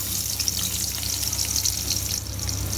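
Chopped onion frying in oil in a pan, a close, steady crackling sizzle that holds evenly throughout the short stretch, with no talking.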